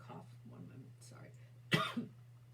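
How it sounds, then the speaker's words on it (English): A single sharp cough from a woman, close and fairly loud, following quiet talk and a steady low electrical hum. "I am going to cough 1 moment"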